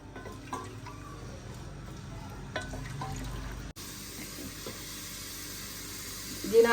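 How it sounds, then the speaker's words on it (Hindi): Thin-sliced onion frying in a cup of ghee, a steady close hiss and sizzle that holds evenly throughout, with a brief clatter near the end. "1 प्याज लिया है जिसको हमने थिन स्लाइसिस में काट लिया है, इसको ब्राउन होने तक फ्राई करेंगे।"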